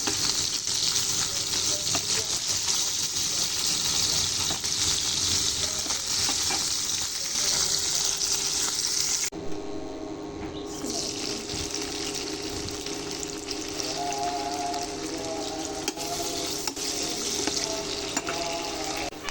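Small ghonia fish fry in hot oil with a dense, continuous sizzle and crackle, close and loud, briefly dipping before the frying noise resumes, with no talk.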